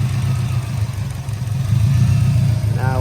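A 2013 Subaru WRX engine idles steadily with its fuel pump fuse pulled, giving a low, even rumble that stays close and constant with a slight rise toward the end; someone talks over it.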